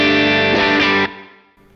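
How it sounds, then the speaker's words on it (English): Electric guitar run through a Line 6 Helix deluxe compressor, strummed chords ringing loud and sustained, then cut off into a fading tail with a faint second note at the end. "And I'm gonna select, there's a deluxe comp."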